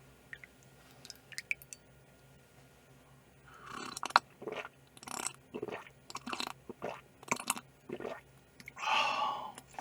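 Philadelphia cube cheesecake is chewed right at the microphone in a series of soft, wet bites and squishy chews, with a louder burst of mouth sound at the end.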